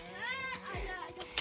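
Sheep on a mountain trail in Nepal give a few loud, wavering bleats close by, with people talking in the background.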